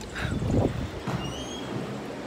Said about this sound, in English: It's hella windy, so I don't think you'd hear me.